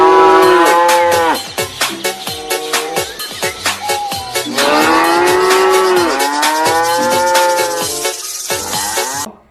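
Loud cow moos sound from a black-and-white toy cow figure, a series of falling calls that repeat quickly one after another, with no talking.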